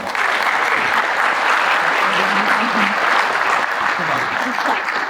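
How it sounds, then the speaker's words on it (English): Audience applause at a San Antonio city and county government event honoring elected and appointed officials: a sustained, steady round of clapping from a sizable crowd, loud and continuous throughout with faint voices mixed in. "Let's give them another round of applause"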